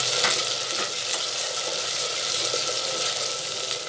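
Chopped, peeled tomatoes are stirred into fried onions in a pan for a Saraiki bhindi gosht, giving a steady close-up sizzle with soft wet scraping and stirring strokes throughout, with no talking.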